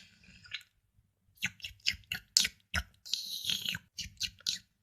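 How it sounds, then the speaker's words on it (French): Wet chewing and crunching from a cartoon character eating milk and kibble, in a string of short, close bites and slurps with brief pauses between them. "elle boit son lait et ses croquettes"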